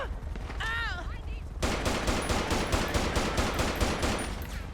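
Rapid automatic gunfire from a police shootout in GTA 5 with the LSPDFR mod, loud and sustained bursts starting abruptly after a short burst of voice.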